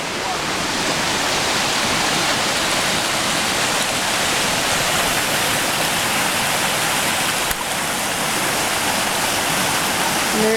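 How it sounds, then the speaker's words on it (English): A river rushes past a campsite on Graves Mill Trail, a loud, unbroken broadband roar of flowing water that fills the whole stretch. "The river."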